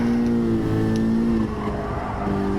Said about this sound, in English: Lots of wheel spin.